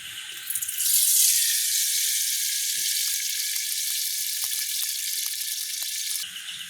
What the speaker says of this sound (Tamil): உங்களுக்கு இப்போ சட்டி நல்லா சூடு வரையிடுது நாங்கள் எண்ணெயை விடுவோம்